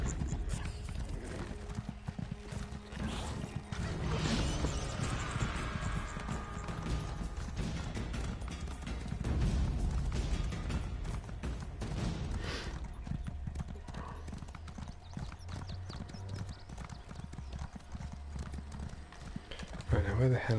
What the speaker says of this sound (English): That's a heck of a horse.